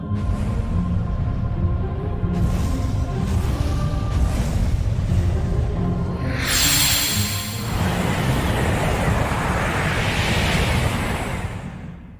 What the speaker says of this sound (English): It's working! Monstro's gonna sneeze!